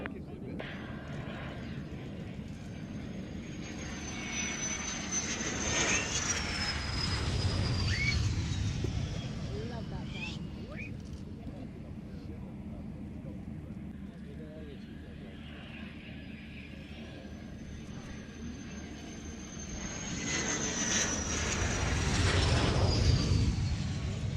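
A fixed-wing aircraft landing at the Royal International Air Tattoo on runway 27, a steady engine roar that swells twice as it passes fairly close, with radio-style voices talking over it.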